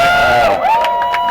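A crowd roars and cheers at a quidditch finals match, a steady, loud wash of many voices with whoops and shouts rising through it, sustained across the whole stretch.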